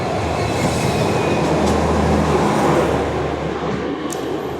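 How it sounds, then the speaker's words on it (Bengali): The 13126 Sairang–Kolkata Express rumbles past a crossing, a loud, steady roar of wheels and carriages holding for the whole stretch with faint squeals on top. "এবার আসছে ডাউন, অর্থাৎ 13126 সাইরাং থেকে কলকাতা এক্সপ্রেস"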